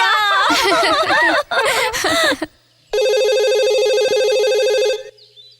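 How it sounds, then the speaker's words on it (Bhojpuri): A telephone rings with a loud, steady electronic tone lasting about two seconds, following a stretch of lively talk and a short pause, then cuts off abruptly. "ये फोन काहे नहीं उठावत?"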